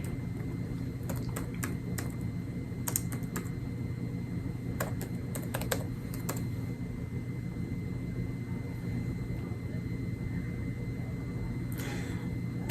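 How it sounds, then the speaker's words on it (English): Someone types on a computer keyboard in short bursts of clicky keystrokes, faint and fairly close, over a steady low hum of background noise. "So let's say I am typing"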